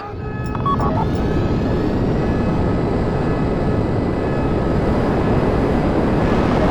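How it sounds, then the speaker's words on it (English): Jet aircraft fly overhead in GTA Online, a loud, sustained broadband roar that swells in at the start and holds steady without talk. "Down those jets before they down you."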